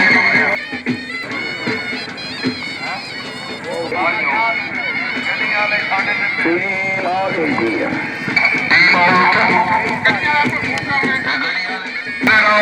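Horses running at a tent pegging horse show, hooves and whinnies under constant loud crowd noise and a commentator's voice over a loudspeaker.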